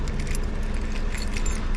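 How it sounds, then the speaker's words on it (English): Keys jangling while unlocking a vehicle on a street during a scrap-metal collecting trip, a steady close metallic rattle over constant outdoor background noise. "Do you have your keys with you to unlock it?"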